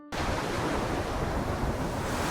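Stormy sea waves crashing under howling wind, a loud, steady roar of surf and gusts that starts abruptly and fills the whole stretch without any voices.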